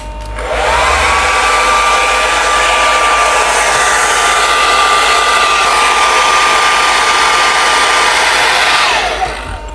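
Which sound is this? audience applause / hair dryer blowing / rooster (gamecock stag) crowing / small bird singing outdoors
hair dryer blowing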